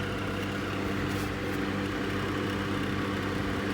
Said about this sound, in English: Sorry about that noise, it's the fan, it's hot.